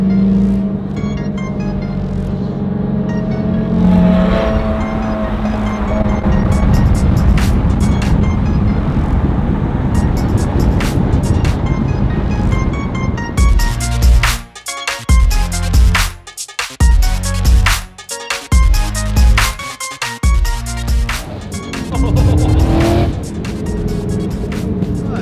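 The 1100 hp twin-turbo Ford GTX1 accelerating hard in first gear, a loud, close engine roar that climbs steadily, then breaks into sharp, choppy revs and gear changes partway through.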